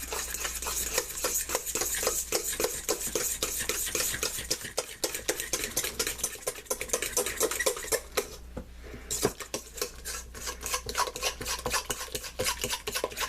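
Pumpkin pie filling with cardamom is beaten by hand in a bowl, a fast, steady run of utensil scrapes and taps against the dish that goes on without pause, with a brief lull near the middle.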